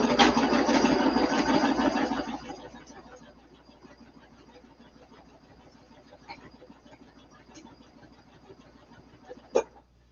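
A sewing machine stitching a quilt runs loud and close with a dense mechanical whir for a couple of seconds, then stops, leaving quiet handling sounds and a sharp clack near the end.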